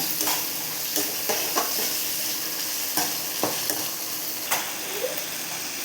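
Chopped tomatoes sautéing in a pan for a bitter gourd curry, with a steady close sizzle and hiss broken by repeated scraping stirs of a spoon against the pan, no one talking.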